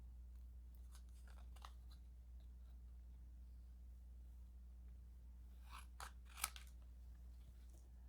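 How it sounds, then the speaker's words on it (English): Scissors snip paper words apart for a handmade card, a few quiet, close cuts spaced out against a low background hum. "So you want to carefully cut your words apart."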